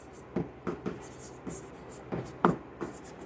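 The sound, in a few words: writing on a board during a chemistry class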